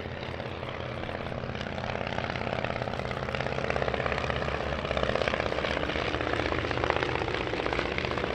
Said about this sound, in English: The Southern Marklet leading the way, not technically a Miles aircraft